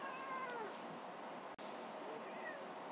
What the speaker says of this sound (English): why do I have this cat? This cat's not benefiting me at all.